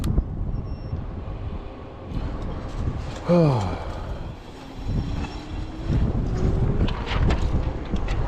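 Steady wind rumbles and buffets the microphone throughout, outdoors beside an 8000-watt Tommebike electric bike, with a brief whistling tone and some faint background noise partway through.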